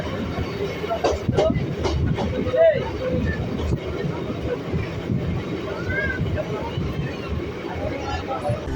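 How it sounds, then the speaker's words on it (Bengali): A local train on the Barasat to Ranaghat line runs through stations with a steady heavy rumble and rattling carriage noise. Passengers chatter under it throughout. "আমাদের ট্রেনটা সংহতি স্টেশনে দাঁড়াবে না থ্রু ট্রেন হয়ে চলে যাবে"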